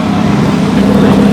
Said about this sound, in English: Lambo coming.